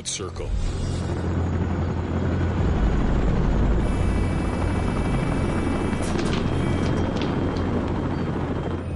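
Logging helicopter hovering while hauling heavy timber that will not come free, a loud, steady rotor roar with a low pulsing thump throughout, close and continuous.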